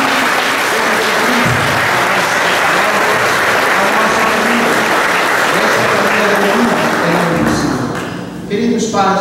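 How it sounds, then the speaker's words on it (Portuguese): A church congregation at a baptism Mass in the Matriz of Cabeçuda applauds warmly, a dense, sustained wash of clapping hands filling the space loudly for most of the clip before thinning out near the end. "Vamos com uma calorosa salva de palmas à mulher"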